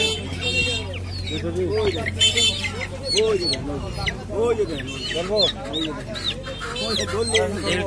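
Village haat bazaar where local chickens and ducks are sold: steady, busy clucking from several nearby hens fills the scene, with people talking throughout.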